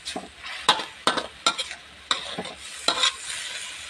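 Pad krapow, a Thai holy basil stir-fry, being stir-fried in a pan: a spatula scrapes and tosses in sharp irregular strokes over a soft background sizzle, close and fairly quiet.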